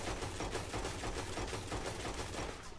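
Dual-wielded pistols fired from the hip in Red Dead Redemption 2 make a rapid, relentless string of loud gunshots, evenly spaced and close, running unbroken across the whole stretch with no talk.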